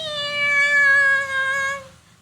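A cat in a storytelling scene gives one drawn-out, whiny meow with a bright, tonal quality, loud and close, lasting about two seconds with no talking over it.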